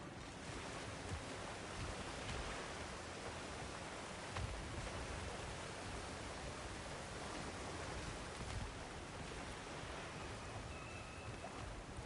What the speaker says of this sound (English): The water rushing above us, to be clear.